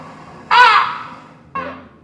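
A crow caws twice in a Punjabi stage comedy, with two loud harsh calls about a second apart and a third starting at the end.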